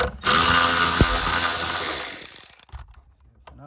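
A hand ratchet turning 10mm bolts and nuts off the airbag module of a 2020-22 Nissan Sentra, a fast buzzing run of clicks close by that slows into a few separate clicks, with a brief spoken remark.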